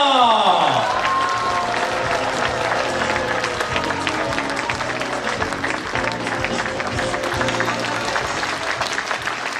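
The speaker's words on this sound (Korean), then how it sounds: "여러분 올라오실 때 큰 박수로 환영해 주시면 고맙겠습니다." Sustained applause and crowd noise at a book launch event in Yeosu, welcoming the Gyeonggi governor to the stage; loud continuous clapping from a large audience, with a brief tonal sound at the start and voices mixed in.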